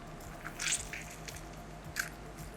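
Citrus fruit being squeezed by hand over a kitchen counter to free the juices, giving a few soft, close squishing and wet crunching sounds in short bursts, no voices.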